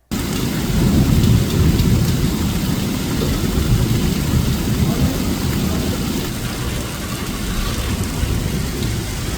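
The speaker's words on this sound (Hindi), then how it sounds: "सिद्धपुर में भी तेज हवाओं के साथ कई इलाकों में बारिश दर्ज की गई है।" Heavy rain pours down with rolling thunder and strong wind in Siddhpur, Gujarat, a loud, dense, continuous roar and rumble that stays steady throughout.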